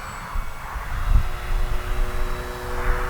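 An Arrows RC Husky 4S electric model airplane flies past at full speed with the wind, a steady propeller whine rising and falling slightly over a few seconds, heard outdoors without talk.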